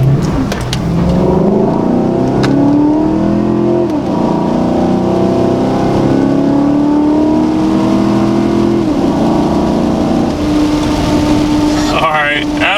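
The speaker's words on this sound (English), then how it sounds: "you hear pretty much nothing but intake noise" A Chevrolet Silverado pickup with a newly installed exhaust is revved hard while heard from inside the cab, where intake noise dominates: a loud, steady engine drone that climbs in pitch as it accelerates, close and continuous throughout.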